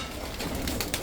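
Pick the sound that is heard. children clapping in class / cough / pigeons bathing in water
pigeons bathing in water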